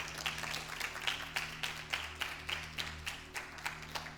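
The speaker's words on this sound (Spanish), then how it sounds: "Dale un fuerte aplauso al Señor." A church congregation claps together in a steady, rhythmic beat, about two claps per second, over a low background hum, with no talking.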